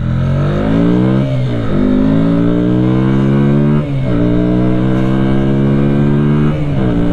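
A Hyosung GV125X V-twin motorcycle revs hard while riding, its loud engine note climbing steadily through the gears with brief dips at each shift, close and continuous, with no talking.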